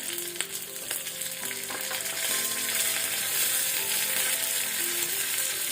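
Garlic and curry leaves sizzle and crackle in hot oil, a dense hiss that grows a little louder and steadier, with a few soft clinks and no talking.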